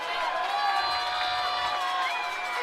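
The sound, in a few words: Castle football fans cheering for the defense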